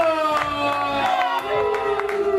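A poetry slam crowd cheers and whoops over steady clapping, with a loud sustained cry riding above the noise.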